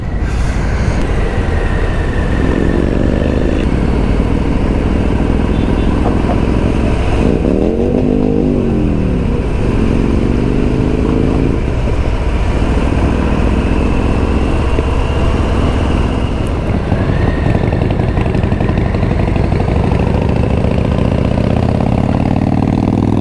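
A Harley-Davidson Nightster motorcycle engine idles steadily with a deep rumble, briefly revving a few times before settling back to idle.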